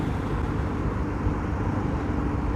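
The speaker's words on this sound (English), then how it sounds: "you can probably hear the engine noise as well" A Yamaha XT motorcycle engine drones steadily while riding at about 65 through Stockholm city streets, a low continuous roar mixed with wind noise and no talking.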